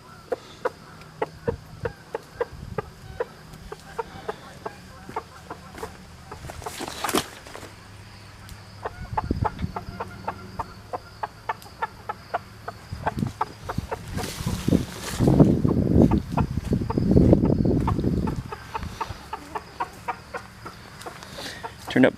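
Hens clucking contentedly around a small homemade chicken coop, repeated soft clucks and calls throughout, with a few louder bursts and some background movement.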